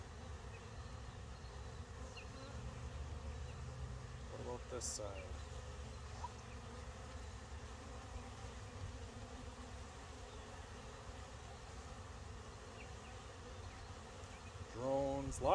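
Honey bees and drones from an open hive during swarm season drone in a steady, dense buzz throughout, with a brief voice speaking over the swarm near the middle and again at the end.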